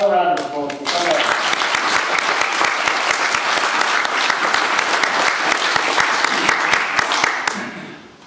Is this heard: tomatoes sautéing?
no